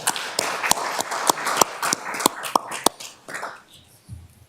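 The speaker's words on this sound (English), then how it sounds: "I'm going to give you another round of applause" A small audience at a regular city council meeting gives a round of applause, sharp, fairly sparse claps at a steady pace that thin out and stop near the end.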